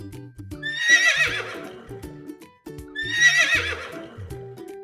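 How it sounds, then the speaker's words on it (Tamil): A horse in a Tamil children's moral story neighs twice in loud, clear whinnies roughly two seconds apart, with some soft clip-clop of hooves underneath. "அதனால் தன் கணைப்பொலியின் மூலம் மன்னரை அழைத்தது குதிரை."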